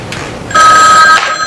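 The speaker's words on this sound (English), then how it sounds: "The phone's ringing." A telephone rings once in a short electronic trill, loud and close, over a faint room background with no one talking.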